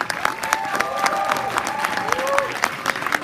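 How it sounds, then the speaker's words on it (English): A crowd claps steadily in a dense patter of applause, with scattered whoops and voices mixed in. "Let's give her a huge round of applause"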